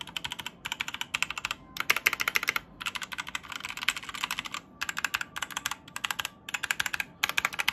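Rapid clicky keystrokes on a Motospeed K87S mechanical keyboard, typed in bursts with short pauses between, close and clear with no voices.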